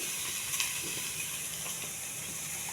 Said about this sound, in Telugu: పచ్చిమిరపకాయలండి, కొంచెం మాడకుండా వేగించాలి